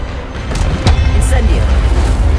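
Expelliarmus, the disarming spell, cast in a Harry Potter video game, heard as a sharp magical crack and zap over a rumbling, low combat bed, with game voices and effects around it.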